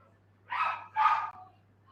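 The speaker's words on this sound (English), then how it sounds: "It's like a circus living here with 18 dogs." Two short barks from a dog inside a house shared with many dogs, each about a third of a second long, close and moderately loud over a low steady hum.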